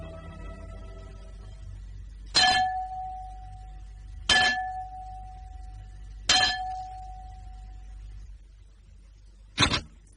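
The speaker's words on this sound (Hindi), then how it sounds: "तुमने ये घंटा बजाया है?" A bell is struck four times at roughly two-second intervals, each a sharp metallic clang with a ringing tone that fades; the last strike is shorter and duller.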